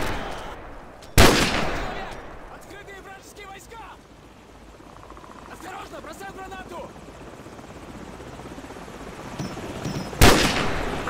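Gunfire in Call of Duty 4 Modern Warfare: two sharp, loud shots about nine seconds apart over a constant helicopter-like drone, with scattered rattling bursts in between.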